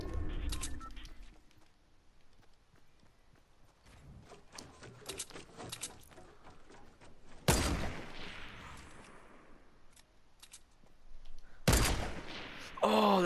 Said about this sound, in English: Oh, those shots are so close.